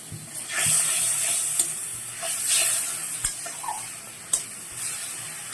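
Cumin paste fries with onions in hot oil while being stirred, making a close steady sizzle and hiss broken by sharp spoon-against-pan knocks.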